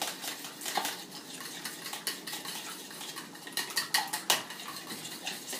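Two eggs whisked in a bowl: quick, irregular clinks of a utensil against the bowl's side in uneven bursts, fairly close and moderately quiet, with no talking.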